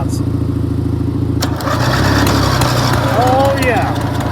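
A small 6x4 ride-on mower engine with a rewired coil cable cranks and then catches into a loud, steady running drone. Someone speaks briefly over the engine noise.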